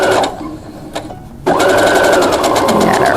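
Sewing machine stitching a quarter-inch quilt seam on a glorified nine patch block, a brief whir, a pause, then a steady fast-running mechanical hum close by.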